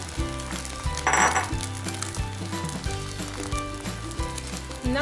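Egg sizzling in a hot pan while the pan is shifted around, a steady close frying hiss with light metallic scrapes and clinks over a background of music.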